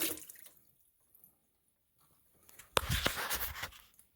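Water spurts out of a test valve after a house plumbing system is repressurized during a renovation. A brief hiss and faint clicks give way to a louder gushing splash that lasts about a second and a half.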